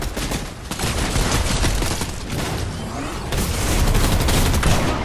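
Continuous heavy gunfire and booming cannon blasts in a chaotic video game firefight, loud and dense throughout with little pause, no voices.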